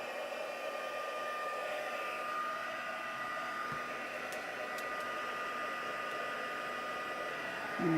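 Heat tool blowing hot air to melt ribbon for a vellum craft, a steady close whooshing hum that continues the whole time with no speech.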